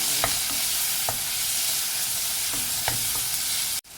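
Tomatoes fry in a pan of hot oil for an Ilonggo squid adobo, a steady dense crackling sizzle broken by several sharp spatula knocks and scrapes against the pan, cut off abruptly at the end.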